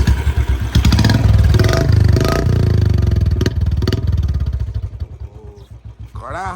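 A motorcycle engine runs loud and close during a silencer fitting, a steady throbbing idle with some clatter, its pulses growing more distinct toward the end as it settles.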